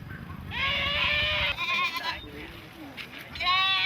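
Goats bleat repeatedly at an ethnic minority livestock market in northern Vietnam, several loud cries close by over a steady murmur of crowd chatter.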